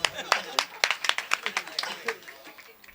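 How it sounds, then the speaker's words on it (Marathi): An audience claps at a religious discourse gathering, a loose patter of sharp hand claps, fairly close, that thins out and fades over a few seconds. "टाळ्या वाजवा"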